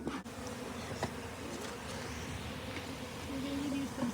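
Honeybees buzz in a steady, fairly faint drone around an opened hive on a small farm during syrup feeding, a low continuous hum with no clear speech.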